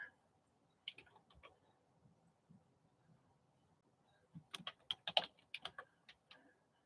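Typing on a computer keyboard, quiet sparse key clicks at first, then a denser burst of rapid keystrokes near the end, close and soft with no talking.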